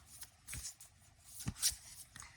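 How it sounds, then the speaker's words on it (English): A deck of oracle cards is shuffled by hand, giving soft riffling and sliding bursts in a few quick irregular bouts, close and quiet with no talking. "I didn't actually give them a very good shuffle, so I'll give those more of a shuffle."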